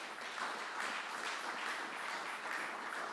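A church congregation applauding and acclaiming the Lord, a steady wash of many hands clapping together in a continuous, even roar, heard from some distance and fairly soft throughout.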